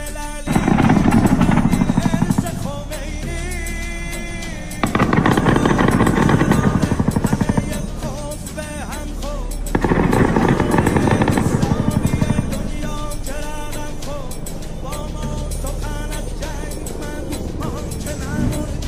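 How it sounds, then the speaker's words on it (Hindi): Gunfire from helicopters attacking Iran-backed groups in Iraq comes as loud, dense bursts of rapid shots, about three long volleys separated by quieter stretches of rumbling engine noise. "इराक के जो ईरान समर्थक ग्रुप हैं उनके ऊपर अमेरिका के हेलीकॉप्टर गोलीबारी कर रहे हैं"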